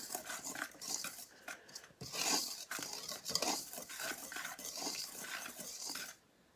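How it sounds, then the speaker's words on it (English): A whisk beats a fluffy fake snow mixture in a bowl, producing rapid, irregular scraping and tapping strokes that run continuously for several seconds and then stop. "But just use a whisk because that really breaks it up."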